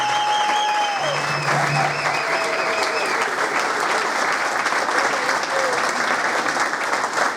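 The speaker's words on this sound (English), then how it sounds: "Can we get a big round of applause for all the students that performed today?" Sustained applause from a school audience for student jazz performers, dense and steady clapping throughout, with a few whistles and cheers rising over it.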